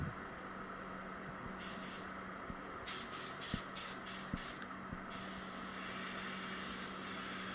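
Spray gun applying clear coat over a blended automotive paint area, a continuous near hiss broken by several short, rhythmic bursts in the middle as the trigger pulses, then a steady spray again.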